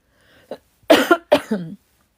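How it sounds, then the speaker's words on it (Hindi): A few sharp coughs in quick succession, close and fairly loud, with short gaps of silence between them. "एकदम से खांसी शुरू हो गई"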